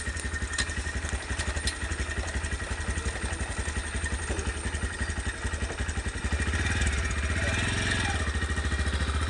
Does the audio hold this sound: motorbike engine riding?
yes